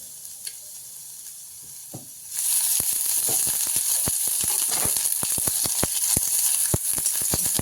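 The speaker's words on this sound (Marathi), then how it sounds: "कांदा चांगला आपला भाजून निघलेला आहे" Sliced onion roasts in a little oil with a low hiss that jumps to a loud, steady sizzle after a couple of seconds. Frequent sharp clicks and scrapes of stirring are mixed in.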